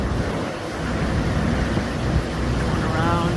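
Tour boat cruising on Milford Sound, New Zealand, its engine a steady low rumble mixed with water and wind noise, continuous and fairly loud throughout.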